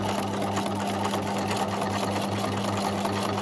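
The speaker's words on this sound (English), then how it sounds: "As you can see, it's slower to go through the sewing machine" A sewing machine runs a close, small zigzag stitch with a steady, even mechanical whir and a fast regular rhythm of needle strokes, loud and near, with no talking.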